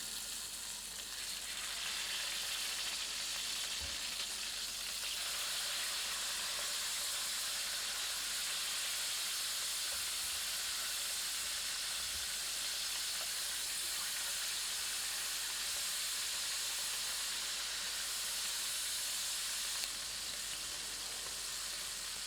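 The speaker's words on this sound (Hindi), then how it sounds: "इसमें मैरिनेटेड किए हुए चिकन के टुकड़े मध्यम आंच पर भूनते हैं।" Marinated chicken pieces fry in hot vegetable oil in a pan over medium heat, giving a steady, loud, continuous sizzle and hiss with no voices.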